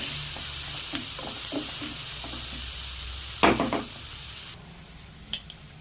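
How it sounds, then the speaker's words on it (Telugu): Small tomato pieces fry and sizzle in a pan for an onion and moong dal curry, a faint steady sizzle punctuated by light stirring scrapes and a brief louder clatter of a spoon against the pan. "ఒక టమాటా చాలండి, చిన్న సైజుది, అది కూడా వేసి ఒక 2 నిమిషాలు మగ్గనివ్వండి చాలు"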